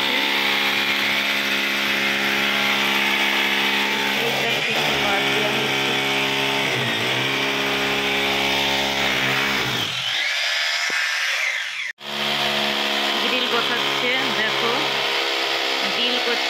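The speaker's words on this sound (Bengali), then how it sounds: "ওদিকে ইট কাটিং হচ্ছে" On a rooftop, a power tool cuts bricks with a loud, steady whine that shifts in pitch while the blade bites in, broken by a brief cutoff and a restart, with a voice talking over it.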